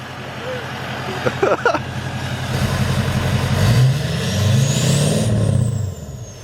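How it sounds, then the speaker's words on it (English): A dually pickup truck engine revs up and down a few times, rising and falling in pitch, with a hiss of air and people talking over it. "Rev her up, Spence!"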